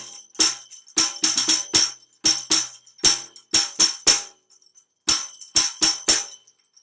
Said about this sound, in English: my tambourine is different from my hand drum because my tambourine's got little jingles on it